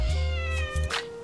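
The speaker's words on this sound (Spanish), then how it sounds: "¿Qué haces por aquí, gato?" A cat meowing close by, giving a loud, drawn-out tonal meow followed by a second shorter cry, with a faint rustle at the end.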